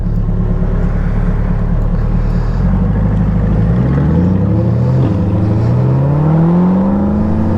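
A Honda Gold Wing engine drones loudly and steadily while the bike is being ridden, with rising and falling pitch sweeps as it revs. Wind rush runs underneath, and no voices are heard.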